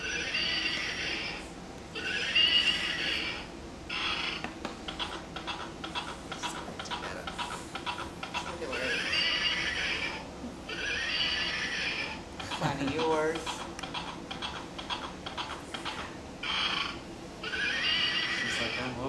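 Toy horse giving repeated electronic neighs and whinnies with clip-clop hoofbeats, several bursts in a row, fairly close, with people talking quietly beneath.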